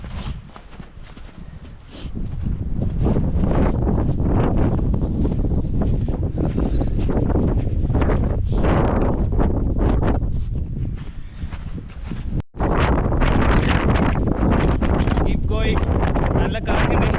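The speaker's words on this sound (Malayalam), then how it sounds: "നല്ല കാറ്റുണ്ട്." Strong mountain wind on Ben Nevis buffets the microphone in a continuous loud roar, with a brief dropout near the end before the gusting resumes.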